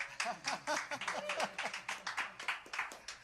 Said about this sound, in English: Big applause at home, ladies and gentlemen.